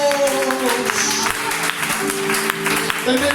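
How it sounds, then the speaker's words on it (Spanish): A church congregation applauds in a steady wash of clapping, with a preacher's voice and sustained tones continuing over it. "Si puede, aplauda la presencia de Dios."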